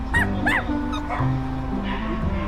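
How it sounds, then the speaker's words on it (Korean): Two quick rising whines and yips open the clip, then softer whimpers follow, from an eager dog waiting beside a dog swimming pool in Seocho, Gangnam, over a constant low hum. "강아지 소리나? 빨리 들어가고 싶어?"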